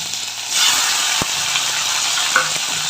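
Mustard seeds and fenugreek tempering in hot oil: a bright sizzle swells suddenly after a quiet start, with a single sharp tap of a utensil partway through, heard close and alone.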